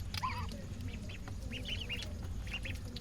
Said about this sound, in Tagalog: Dito, ayan, yung mga pato natin.